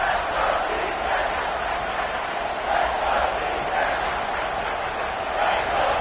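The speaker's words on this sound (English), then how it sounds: "Third down, and the crowd really getting into it." A large crowd roars in a steady, dense wash of cheering that swells slightly now and then, a packed stadium on third down at an Oregon vs Michigan football game.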